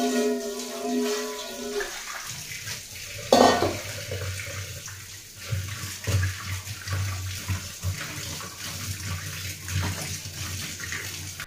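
Running tap water splashing while chicken is washed, a steady rushing flow with occasional clinks and knocks from dishes, continuous and fairly close.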